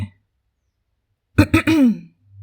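A narrator's voice imitates a throat-clearing cough, one short gruff burst in the middle of otherwise near-silent surroundings.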